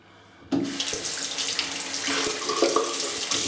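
Tap water runs steadily into a small sink in a soap and cream shop. It starts abruptly after a brief quiet moment, then flows close and continuous to the end.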